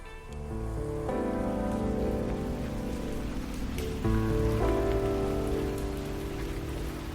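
Steady rain falls on a night scene, a dense even patter throughout with low tonal music swelling beneath it, no voices.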